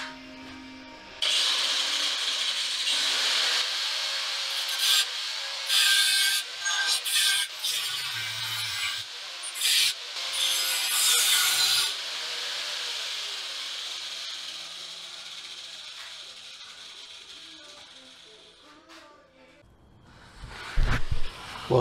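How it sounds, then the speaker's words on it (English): The end of a Nissan Z31 naturally aspirated motor mount is cut off with a power cutting tool while converting it to a turbo mount: a harsh, loud metal grinding that runs for about eighteen seconds with brief stutters, then stops. "So I'm gonna cut a little bit more off this end."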